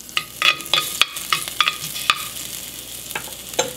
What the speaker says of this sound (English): I heat up some vegetable cooking oil with ginger and garlic.